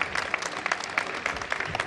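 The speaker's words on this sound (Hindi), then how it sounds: "एक बार जोरदार तालियां हो जाए इनकी मेहनत के लिए" A crowd at a company employee talent show stage event claps in thanks for backstage work, a dense patter of hands over about two seconds at moderate, even loudness with no talk.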